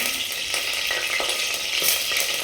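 Hot oil sizzling steadily in a pan for tempering, a loud, continuous crackling hiss with small pops, close by and with no one talking.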